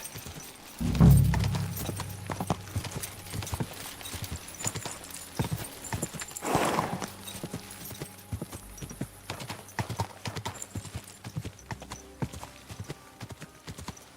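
Horse hooves clip-clop in Kingdom Come Deliverance 2, a game set in medieval Bohemia. Steady hoofbeats run the whole time, with a louder burst near the start and a faint whinny partway through.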